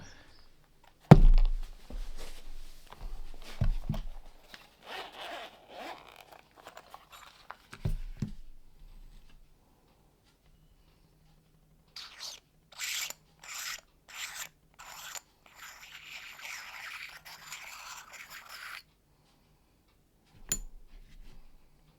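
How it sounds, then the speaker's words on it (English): Caps are screwed off Reeflex Pro 18mm and 60mm phone camera lenses up close, making small bursts of ratcheting clicks and gritty scraping twists separated by quiet pauses. "I quite like the sound of when you're unscrewing the caps of this."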